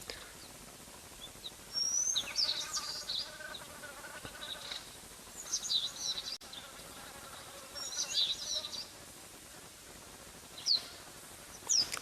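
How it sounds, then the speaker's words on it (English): Scattered high bird calls and chirps ring out at an open outdoor waterhole, with faint buzzing insects between them. "quite a few birds singing their hearts out"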